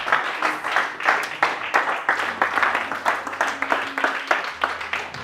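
Church congregation claps in rhythm to acclaim the Lord, a brisk steady beat of many hands with music holding low notes underneath and voices faintly mixed in.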